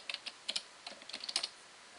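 Keys on a computer keyboard are tapped in quick irregular bursts, close and fairly quiet, with no talking.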